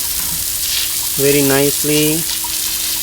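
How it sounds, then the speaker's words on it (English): Pressurised water spray washes sand and grout into the gaps of a concrete paver patio in a backyard, giving a steady broadband hiss while someone speaks briefly over it. "Now we have to fill this grout inside, so we have to apply water pressure"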